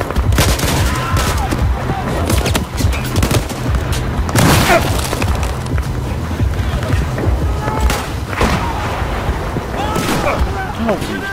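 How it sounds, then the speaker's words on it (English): Loud explosions and heavy gunfire in the Battlefield video game, with a grenade blast among dense fusillades and booms that continue throughout, punctuated by sharp bursts and a voice talking over the chaos. "That's a grenade."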